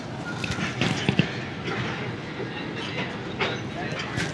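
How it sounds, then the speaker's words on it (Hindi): Train pulling out of Khanpur railway station on the Shalimar Express, a low rumbling roll with faint rail clatter and scattered clicks, heard from inside the carriage with some background voices. "पूरे 5 मिनट स्टॉप करने के बाद 9:06 पे खानपुर रेलवे स्टेशन से मूव होना शुरू कर दिया ट्रेन ने।"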